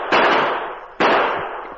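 Two sharp gunshots in an old Western drama, each a loud crack with a fading tail, spaced nearly a second apart and heard alone.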